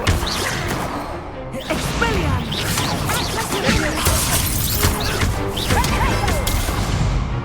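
Hogwarts Legacy spellcasting, Incendio and Leviosa, in a dense run of loud magical whooshes, crackles and impacts that follow one another without pause, with brief shouted voices buried in the mix.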